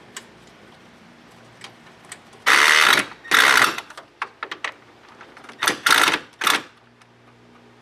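Ratchet tightening bolts on the AC condenser of an Impala, several short bursts of fast clicking ratcheting separated by light taps and pauses, close and clear with no speech.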